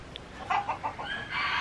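Fancy breed hens cluck and call nearby, a short run of rhythmic clucks rising into a drawn-out call, fairly close against a soft noisy background.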